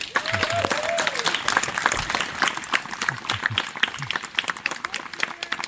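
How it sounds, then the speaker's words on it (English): A group at a poker run and pizza party gives a round of applause, scattered sharp claps with whoops and chatter mixed in, fairly close and lively. "I just want everybody to give them a round of applause"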